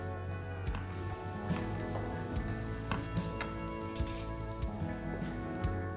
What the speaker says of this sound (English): Now we're going to saute this till it's transparent.